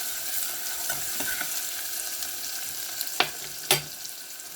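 Red onion sizzling steadily in a hot pan while being stirred, a soft continuous fry with scraping strokes and two sharper clacks of a spoon against the pan near the end, no talking.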